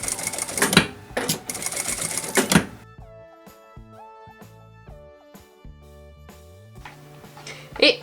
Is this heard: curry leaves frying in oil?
no